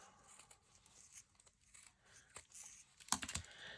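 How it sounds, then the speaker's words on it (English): Scissors make a few quiet snips through baby-clothes fabric at the seam, with soft rustling around them and a sharper cut near the end. "I will cut it here at the seam."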